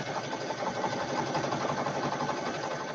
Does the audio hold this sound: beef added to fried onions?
no